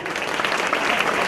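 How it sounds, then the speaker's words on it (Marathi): A short burst of dense, lively applause from an audience as a 10th-grade student comes onto the stage, steady and fairly loud throughout. "जोरदार टाळ्या"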